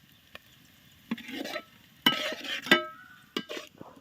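Chicken gravy base with curry leaves sautéing in oil, stirred with a spoon; a few sharp scrapes and clinks over a soft sizzle, bursts of stirring noise coming and going.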